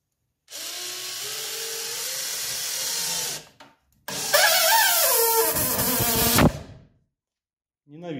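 A power drill drives 35 mm self-tapping screws into a wooden batten, two loud whirring bursts of about three and two seconds, close up, each rising in pitch before stopping abruptly.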